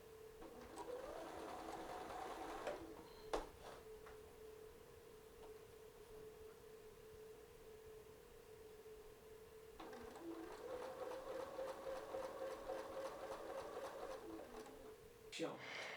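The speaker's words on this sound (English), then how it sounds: "So now off to the sewing machine you go." Sewing machine stitching quilt binding to mitre a corner, running in two long steady bursts with a pause between, under background talk.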